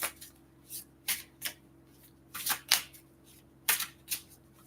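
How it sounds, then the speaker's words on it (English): Oracle cards shuffled by hand in quick riffling bursts, about eight short crisp flurries separated by brief pauses, close and fairly quiet over a faint steady hum. "So I shuffle the cards like this"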